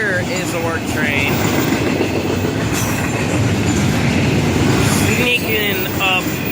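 A Florida East Coast freight train rolls past on the adjacent track, its loud, continuous rumble and wheel clatter close by, with high squeals from the wheels now and then.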